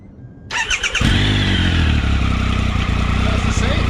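A Triumph Tiger Explorer motorcycle fitted with a Scorpion Serket parallel slip-on exhaust starts for the first time: the starter whirs, then the engine catches and settles into a loud, close, steady rumble, with voices nearby.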